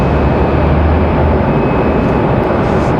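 A United airliner takes off at Raleigh-Durham International Airport, a loud, dense, continuous jet roar with heavy low rumble, close and unbroken throughout.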